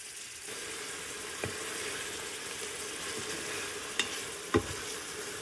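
Sweet onion sautés in olive oil in an Instant Pot, a continuous close sizzle with occasional sharp utensil clicks and taps, no talking.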